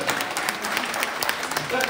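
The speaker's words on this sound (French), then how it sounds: "je voudrais que vous fassiez un maximum d'applaudissements pour Norbert Tarrer, s'il vous plaît" Crowd applause for a pastry chef at a Courneuve versus Stains pastry event, a dense, continuous clatter of many hands with voices mixed in throughout.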